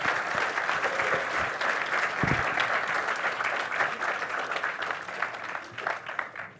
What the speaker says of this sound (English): I'd like to offer a round of applause for our guests here today.